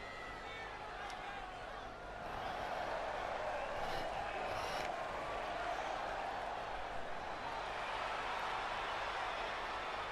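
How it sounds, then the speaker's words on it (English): Virtual arena crowd in the WWE 2K20 wrestling game, a steady dense roar of cheering at a tag team match entrance, loud and continuous with a slight swell after the first couple of seconds, no clear talk over it. "Listen to this crowd, guys."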